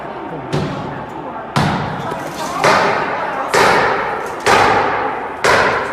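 Rioters inside the US Capitol kick doors and smash windows, making a series of six loud, sharp impacts spaced about a second apart, each a heavy thud with a bright crash that rings out and fades.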